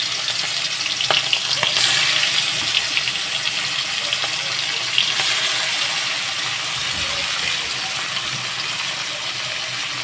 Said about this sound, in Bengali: তো কড়ার মধ্যে কিন্তু চিংড়ি মাছগুলো দিয়ে দিচ্ছি